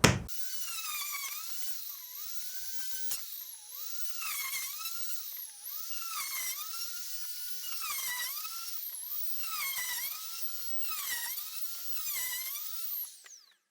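A router cuts dog holes into a wooden workbench top, whining at high pitch in repeated passes. The pitch dips each time the bit bites into the wood and then rises again. It is close and steady, with no talk.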